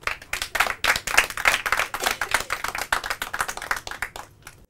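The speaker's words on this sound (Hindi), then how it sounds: "सभी के लिए तालियां हो जाए" Students from Rosary Higher Secondary School applaud at a Hindi school quiz round, a close, busy spatter of hand claps that swells and then thins out toward the end.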